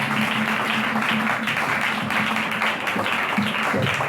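A church congregation applauding, a dense, loud and continuous wash of clapping from many hands that holds steady for several seconds.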